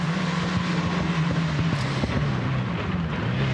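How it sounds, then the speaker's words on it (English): A Ferrari rally car climbing the Forest Rally Stage at the Festival of Speed, heard as a loud, steady engine drone that stays near throughout, with no voices. "that Ferrari then making its way now, closing sector of the Forest Rally Stage as it makes its way up"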